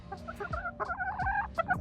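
Chickens cluck close by in short, irregular bursts, several birds overlapping with no talking.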